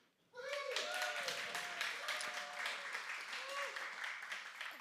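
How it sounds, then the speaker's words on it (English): A crowd gives a Pride Committee a sustained round of applause, with steady massed clapping mixed with cheering voices that rises quickly and carries on without a break. "can we all give a huge round of applause to the Pride Committee?"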